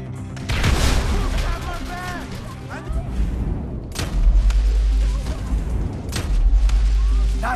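A frag grenade goes off in Grand Theft Auto V amid a loud, continuous firefight, with deep booms landing around the middle and end over steady gunfire and shouting voices.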